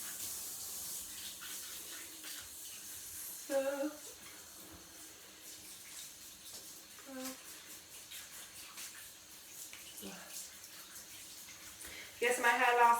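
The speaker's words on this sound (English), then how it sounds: "Turn the shower on." A home shower runs with a steady, moderately close hiss of falling water while someone wets their hair, with brief bursts of talk over it.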